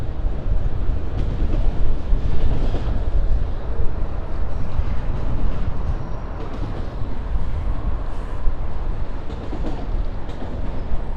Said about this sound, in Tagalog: This is the longest train cable cars I've seen in my lifetime.